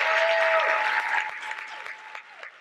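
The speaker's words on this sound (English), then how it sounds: "Can you join me just in giving both of our President's Award recipients a tremendous round of applause?" Audience at a community college employee excellence awards ceremony gives a full round of dense applause that starts strong and then tapers off over a few seconds.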